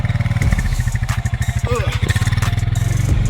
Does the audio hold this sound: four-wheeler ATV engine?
yes